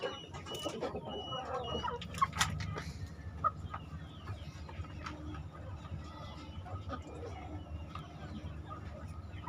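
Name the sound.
chickens in a coop, brooding hens clucking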